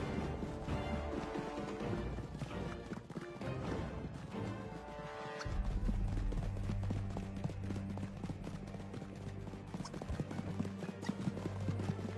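Horse hooves clip-clop in the Red Dead Redemption 2 video game, a steady galloping rhythm of hoofbeats over ground at moderate volume, with a heavier rumble of movement joining partway through.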